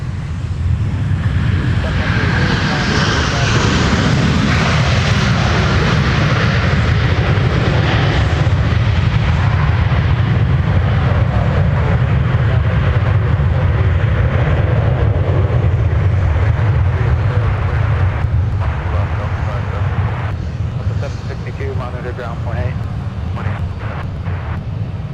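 A United Airlines jet taxiing at Minneapolis airport produces a continuous, loud engine rumble and whine that swells and then eases slightly as it moves away.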